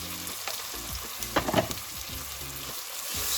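Potato curry sizzles in a pan as it is stirred, a constant bright frying hiss broken by a few louder scraping, crackling bursts from the stirring.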